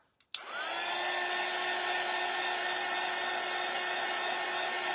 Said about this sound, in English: Let's hit it with the dryer real quick.